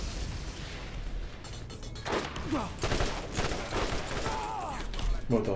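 Gunfire and explosive blasts from a Borderlands video game battle sound loud and continuous, a rolling barrage of shots and booms with a few short voice sounds mixed in.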